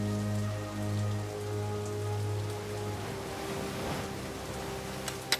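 Steady rain falls on surfaces in a video game, a dense, even patter that holds close and continuous throughout, with a faint low tone underneath and no voices.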